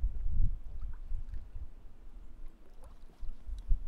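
An inflatable kayak is paddled with an oar at Dorcas Bay, Tobermory, giving soft irregular splashes and water sloshes over low wind rumble, no talk.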